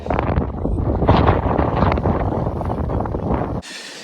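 Strong coastal wind at El Doradillo buffets the microphone in a continuous loud roar with gusty surges, then drops abruptly to a softer hiss near the end.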